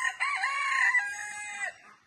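A chicken gives a loud, close, drawn-out crowing call lasting nearly two seconds, with a short clucking onset, alone without talk.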